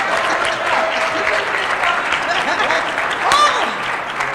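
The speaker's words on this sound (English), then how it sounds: "Will y'all give her a clap?" Steady applause from an audience at an employment and entrepreneurship forum fills the room, continuous and fairly loud, with scattered voices and a whoop mixed in.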